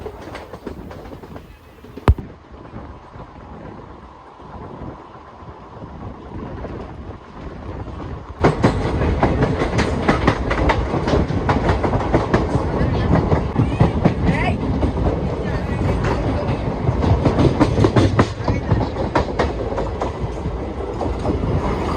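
Sleeper-class carriage of the Krishna Express running from Tirupati toward Secunderabad: a muffled interior rumble with a single sharp click, then a sudden louder, steady roar with rhythmic clickety-clack of wheels over rail joints.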